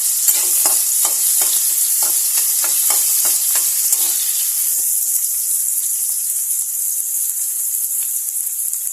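Onions sizzle in hot oil with cinnamon, cloves and cardamom, a loud continuous hiss with stirring scrapes and clicks near the start that fade as the frying carries on steadily.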